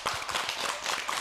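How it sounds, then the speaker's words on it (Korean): A studio audience applauds to welcome three guests, a harmonica teacher and students, onto the stage of a live TV show, a steady dense patter of clapping throughout. "여러분 큰 박수로 맞아주십시오"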